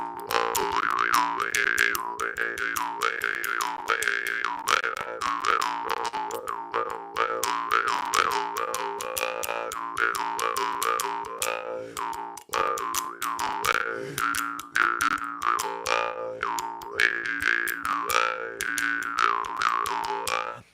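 Jaw harp played continuously, with lower-pitched tuning from beeswax: dense, buzzing twangs with constantly shifting overtones in a steady, rapid rhythm, loud and close with no talking.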